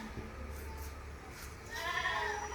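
Beetal goats on a farm, one buck and two does, give a single short bleat near the end of the clip over faint background noise.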